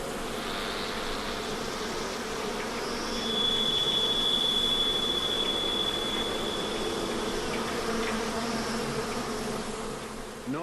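A swarm of about 100,000 bees crawls over a man's body, producing a dense, continuous buzzing drone heard up close, with occasional individual bees whining past louder for a moment.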